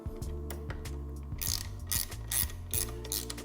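A ratchet wrench clicks rapidly as it turns a 14 millimeter nut during skid plate installation on a Honda Rebel 1100, with short bursts of pawl ticking between pauses, close and steady with no talk.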